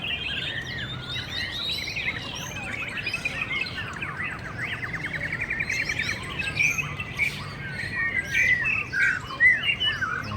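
White-rumped shamas sing at a bird contest in Taiwan, with bright chirps, whistles and rapid trills overlapping nonstop from several nearby birds, no voices.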